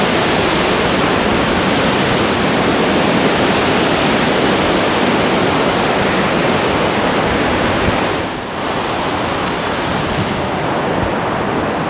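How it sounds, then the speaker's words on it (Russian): Loud, continuous rush of a waterfall and cascading clear water in Bosnia and Herzegovina, a dense steady roar with no pauses, close by. "Которые плавно переходят вон туда в водопад."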